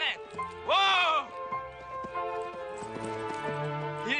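A horse's hooves clip-clopping during a riding scene, heard under music with a brief whinny-like tone at the start, the hoof beats faint and mixed into the soundtrack.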